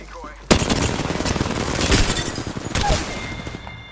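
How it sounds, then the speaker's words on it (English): Rapid, loud shotgun blasts from the Mastiff in the battle royale shooter Apex Legends, a dense run of close booming shots that keeps going for several seconds after a quiet start. "shots fired"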